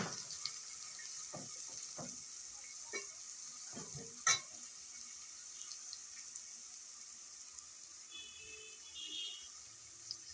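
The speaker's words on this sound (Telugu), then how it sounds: "ఉల్లిపాయ ముక్కలు, కొంచెం కరివేపాకు వేసుకుందాం." Onion pieces and curry leaves fry in a pot of oil with a soft, steady sizzle, broken by light stirring clinks and one sharper clatter midway; no voices.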